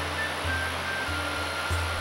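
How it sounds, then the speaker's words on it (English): McCloud Falls, a short 25-foot waterfall on the McCloud River fed through a narrow gorge, gushing as a steady, dense roar of falling water without pause. "constricting the water flow and sending it gushing out of the short 25-foot fall"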